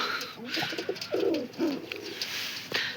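Pigeons coo repeatedly nearby, soft throaty calls in a steady series, with a faint voice in the background.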